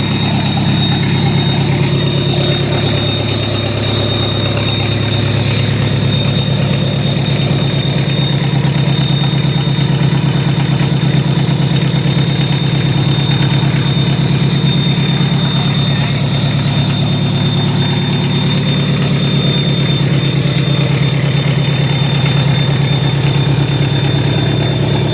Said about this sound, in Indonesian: Kita lanjutkan dulu, kita panasin dulu untuk mesinnya